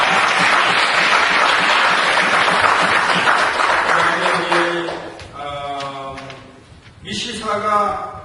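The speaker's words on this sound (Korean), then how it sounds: "박수로." Congregational applause welcoming church members at a revival meeting, broad and sustained for several seconds before fading as a speaker's voice takes over.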